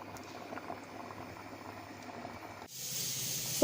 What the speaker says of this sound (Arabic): عندي كذلك الشعريه كتفور.